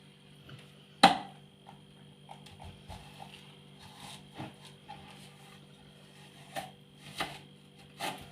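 A knife chops a firm onion on a cutting board in a quiet kitchen, giving sparse, irregular sharp taps, one louder strike early on followed by softer scattered cuts over a low steady hum.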